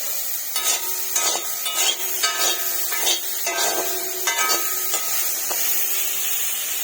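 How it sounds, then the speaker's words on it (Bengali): Cooking in an iron wok: repeated scraping and stirring strokes of a spatula against the metal, rhythmic and fairly close, over a steady sizzling frying hiss, with no talking. "আজকে সব কিন্তু লোহার কড়াইতে রান্না করা হচ্ছে"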